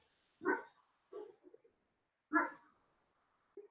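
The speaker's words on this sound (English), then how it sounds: "My dog's barking." A dog barks a few times in a quiet room, two louder barks spaced apart with softer huffs and a short yip between them, fairly close.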